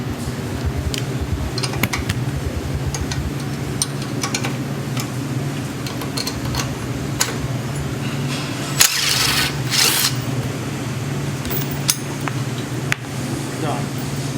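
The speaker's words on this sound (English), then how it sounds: "Now I'm using a screw gun with a 13mm socket on it." A screw gun fitted with a 13mm socket drives a bolt, giving a steady whirring motor hum with repeated clicks and a brief louder burst near the end.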